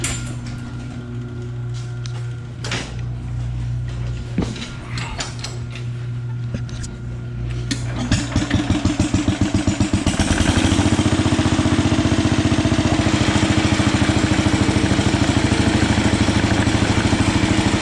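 A restored Minnie Mo 112 minibike engine starts up and runs steadily through a test ride, its mid-pitched motor growing louder and denser over the second half after softer clattering handling sounds at the start.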